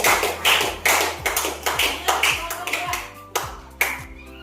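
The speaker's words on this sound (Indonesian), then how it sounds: "Kita kasih tepuk tangan dulu untuk kelompok satu" A small classroom group claps for a presenting group in a high school Islamic studies lesson, producing a sparse, rhythmic run of distinct hand claps and taps, fairly close and moderate in volume, with a few louder hits near the end.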